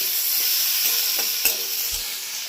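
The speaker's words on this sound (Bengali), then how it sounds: "হলুদ দিলাম, ভালো করে নাড়াচাড়া করে নিলাম।" Spices and turmeric being stirred in a frying pan, a steady close sizzle of hot oil with a few soft scrapes and knocks of a spoon against the pan, no voices.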